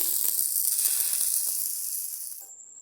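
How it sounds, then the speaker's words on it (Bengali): Chicken kabab pieces sizzle on a hot tawa with a loud, bright, continuous hiss that slowly fades and then cuts off near the end. No one speaks. "এইভাবে তাওয়ায় ফেলে প্রথমে ছেঁকে নিয়েছি"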